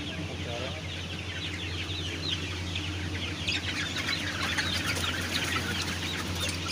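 Misri hens cluck softly and continuously in a village hen farm, a busy flock murmuring at moderate distance over a steady low background hum.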